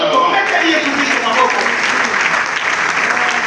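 A congregation at a worship service claps in loud, dense, sustained applause that fills the room evenly from start to finish.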